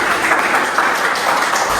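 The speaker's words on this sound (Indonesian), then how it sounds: "tepuk tangan untuk kalian" Students in a classroom clap together in a brief, dense burst of applause, loud and close, lasting under two seconds.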